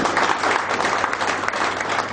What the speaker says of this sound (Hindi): इनको मैं जोरदार तालियों के साथ स्वागत करना चाहता हूँ।